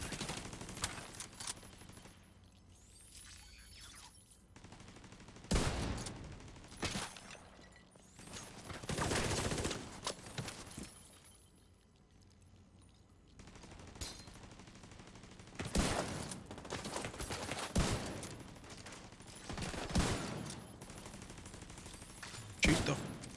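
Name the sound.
gunfire from a turret in the video game The Division 2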